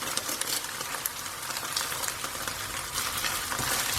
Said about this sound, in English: I'm going to add some fresh chilies and my curry leaves.